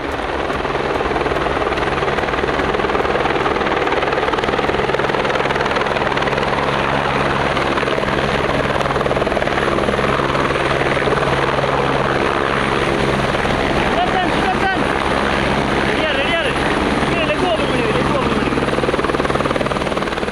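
A helicopter's rotor thrums loudly and steadily throughout, close overhead, with a constant whine riding above the deep chopping drone, as it lands at a college ground in Chennai.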